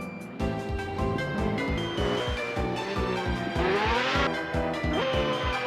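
A Pagani Imola sports car in a Roblox driving game revs hard in a loud, continuous engine drone that climbs through pulsing gear changes, with a brief squealing rise midway and no voices.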